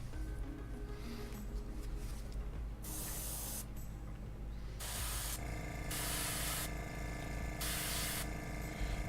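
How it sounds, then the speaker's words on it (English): An airbrush sprays paint onto a WizKids Beholder miniature in steady bursts of airy hiss, several seconds each, separated by brief pauses, close and continuous with no voices. "it's flowing out of the brush, out of the airbrush really nice"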